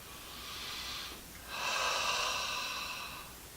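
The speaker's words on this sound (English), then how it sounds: "Sometimes it even helps to exaggerate the sound of your breath so you can really feel this movement" Two exaggerated breaths, a shorter one then a longer, louder one, rush in close and clear during a seated chair yoga exercise, with no talking.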